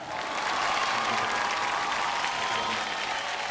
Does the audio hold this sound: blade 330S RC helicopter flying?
no